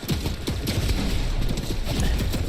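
Rapid bursts of gunfire in a Fortnite tournament fight, dense overlapping shots crackling loudly and continuously for a couple of seconds with no voices.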